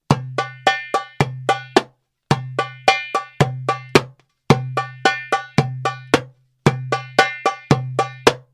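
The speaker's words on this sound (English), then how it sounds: "this drumming tab sounds like this. Dumka, taka, dumka, slap." A darbuka plays a repeating dumka, taka, dumka, slap pattern: deep resonant bass strokes mixed with sharp ringing rim taps, grouped in tight bursts with brief pauses between cycles, close and crisp.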